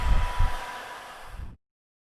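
A hair dryer blows hair straight with a steady, close airy roar. A couple of low thumps of handling sound near the start, then the dryer cuts off abruptly after about a second and a half, leaving silence.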